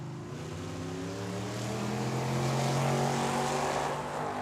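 Two drag cars, a Nova and a Mustang, run the quarter mile at Tucson Dragway during a Cactus Clash event, a loud steady engine roar with rising harmonic tones that swells and holds throughout, no talk over it.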